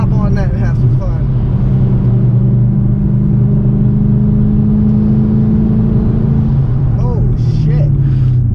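A BMW E92 M3 drives along with a steady, loud engine drone and low rumble throughout, rising slightly as it accelerates near the end; faint voices sit under the engine noise.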